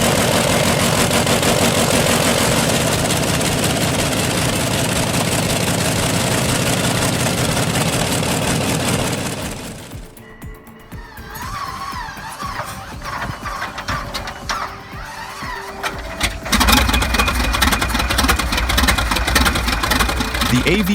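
An AV1790 29.3-liter V12 tank engine cold starting and running: a loud roaring drone that drops off, then sputtering, rattling mechanical revving before the engine swells into a heavy, thunderous run.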